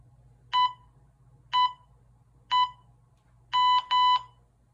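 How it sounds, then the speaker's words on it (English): An electronic workout interval timer beeps three evenly spaced tones, then a longer double beep, sharp and clear over a faint low hum, with no talking. "Go ahead and listen for the buzzer. It'll count down 3, 2, 1."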